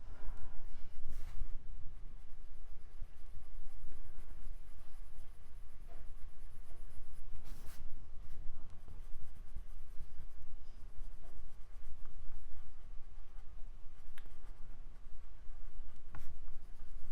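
Colored pencil coloring on paper, a close, continuous scratchy rubbing of strokes going back and forth at a steady pace, with no talking.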